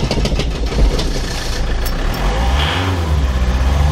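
A car engine being cranked to start on a hot day, a steady mid-pitched mechanical churn with low rumbling surges toward the end, close and continuous.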